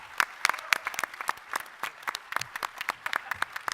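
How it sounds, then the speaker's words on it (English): Scattered applause from a small audience at a 2014 voter education and candidates forum, with distinct individual claps in an uneven rhythm, close and moderately loud, without talk. "Give them a round of applause for their service."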